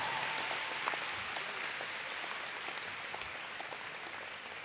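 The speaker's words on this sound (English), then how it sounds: "Give them a round of applause." A graduation ceremony crowd applauds a scholarship sponsor, a soft, even patter of many hands clapping at a distance, steady and fairly faint throughout.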